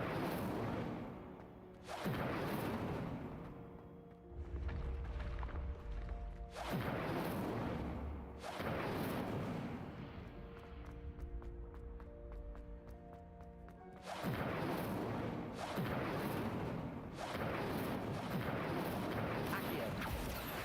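Incendio fire spell cast repeatedly in a wizarding video game, several loud whooshing bursts of flame with rumbling impacts, separated by quieter game ambience with faint musical tones.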